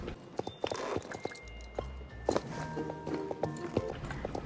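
Hooves of an Icelandic horse clip-clop in the video game Star Stable, a string of crisp irregular hoofbeats against soft tonal game music, close and moderately loud.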